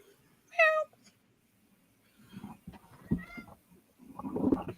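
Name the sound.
cat meowing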